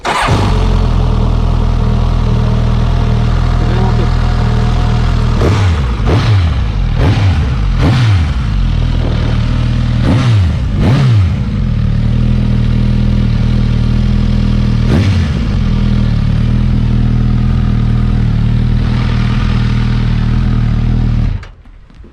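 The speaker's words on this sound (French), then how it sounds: "Je vais vous la démarrer." A 2022 Suzuki GSX-S 1000GT motorcycle fires up and idles with a deep, loud, steady rumble, punctuated by several sharp throttle blips, before cutting off abruptly at the end.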